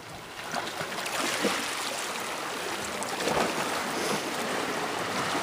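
Mediterranean sea water washes and laps at the shoreline in soft, irregular swishes, close by and fairly quiet, with a light breeze and no talking.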